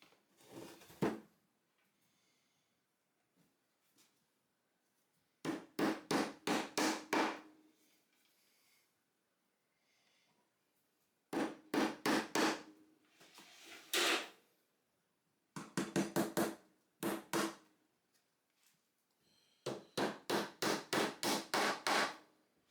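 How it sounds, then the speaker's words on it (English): A hammer taps glued wooden dowels into a 2x4 bench, in sharp bursts of four to eight quick wooden knocks separated by short quiet pauses. "Add glue and tap the dowels in."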